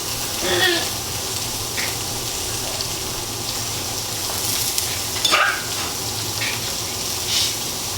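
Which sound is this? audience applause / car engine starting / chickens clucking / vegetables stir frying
vegetables stir frying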